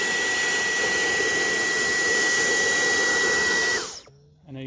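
A cordless blower blasts dirt out of the airbox of a Yamaha YZ450F dirt bike, a loud, steady roaring rush of air that holds for about four seconds, then cuts off and winds down quickly.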